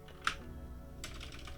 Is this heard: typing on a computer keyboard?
yes